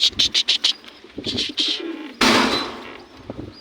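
Pigeons cooing close by in a run of soft rhythmic calls, followed by a rustling burst like flapping wings.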